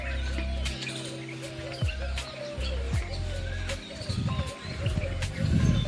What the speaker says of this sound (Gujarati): મોરલા કોયલ ટવકા કરતી હોય